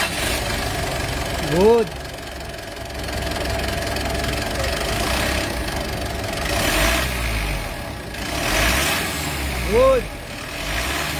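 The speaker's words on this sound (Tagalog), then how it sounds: "Start muna tayo engine, check muna tayo ng turbo actuator kung gumagana." Mitsubishi Montero diesel engine idling steadily after a turbo cleaning, a low continuous rumble with two brief rising whistles, while someone speaks over it.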